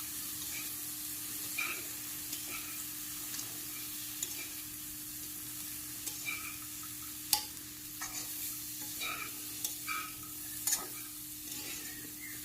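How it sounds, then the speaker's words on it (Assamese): Ginger frying in a pan for chana masala, a steady low sizzle with occasional stirring clicks and scrapes throughout, moderately quiet and without talk. "আদাৰ কেঁচা গোন্ধটো যোৱালৈকে মই অলপ দেৰি ভাজি ল'ম"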